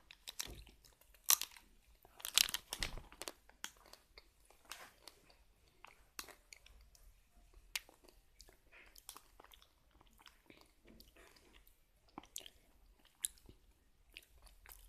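Someone bites into and chews Tico chocolate-coated snacks, giving close, crisp crunches that are loudest early on, then softer intermittent chewing with quiet gaps and no talking.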